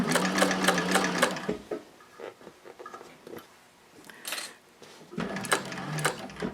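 A Techsew 4800 Pro sewing machine stitches in fast, rhythmic bursts, pausing twice briefly before running again, close and loud.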